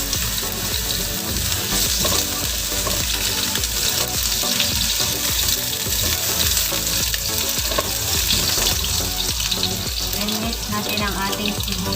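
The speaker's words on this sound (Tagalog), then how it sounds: "Then, igisa natin ang ating luya." Ginger sautéing in hot oil in a pan, a loud, steady, crackling sizzle that runs without pause, with faint stirring and clatter mixed in.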